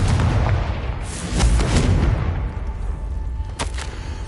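In Hogwarts Legacy, a Confringo spell detonates as a heavy, gunfire-like blast, with rolling explosive bursts for the first couple of seconds and a sharper crack near the end. No one speaks.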